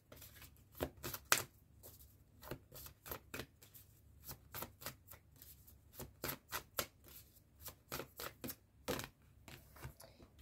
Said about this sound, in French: d'abord, je tire toutes les cartes